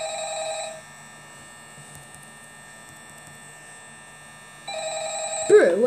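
A telephone rings in the Five Nights at Freddy's video game, a steady electronic tone that drops away briefly then returns loudly, ending with a short burst of sound.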